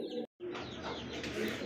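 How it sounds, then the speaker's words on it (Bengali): High flyer pigeons at a farm give soft, low cooing calls close by, a short burst, a brief pause, then a longer run of coos, with no talking. "দেখতে পাচ্ছি এখানে আরও এক জোড়া কিন্তু হাই ফ্লাওয়ার কবুতর"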